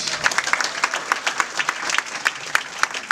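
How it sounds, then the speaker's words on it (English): A crowd at an interfaith solidarity march in Los Angeles applauds, dense overlapping claps with a few sharper hand strikes standing out, sustained and fairly close for about three seconds with no one speaking. "Give yourselves a round of applause."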